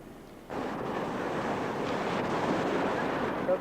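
Ocean surf at Red Sands Beach in Hana, Maui, behind a cinder cone among lava rock, breaks in as a sudden broad wash and then rushes on steadily with wind buffeting the microphone.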